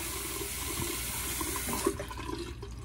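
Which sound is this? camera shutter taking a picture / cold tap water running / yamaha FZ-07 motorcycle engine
cold tap water running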